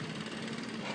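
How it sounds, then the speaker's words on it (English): A leaf blower drones steadily on a street in Washington DC, a continuous broadband engine roar with no pauses or voices. "There seems to be a leaf blower on the street"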